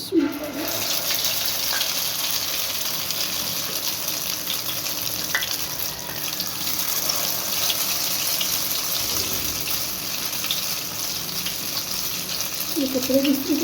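Egg tikkis crackle in hot oil with a constant close hiss that holds at one level, and brief voices rise at the very start and end.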